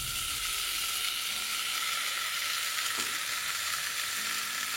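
Marinated chicken sizzles in a pan with onion and capsicum, a steady, close frying hiss with faint stirring scrapes running unbroken throughout, with no voices.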